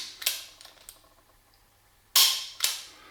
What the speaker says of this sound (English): So this is normally how I would shoot the gun.